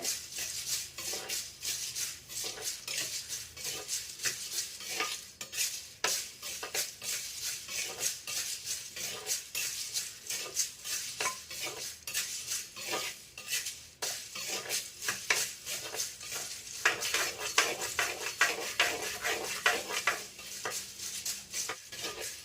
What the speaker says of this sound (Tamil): மண் சட்டியில் ஏலக்காய் வறுக்கிறது ரொம்ப பயங்கர ஸ்மெல்லாக இருக்குங்க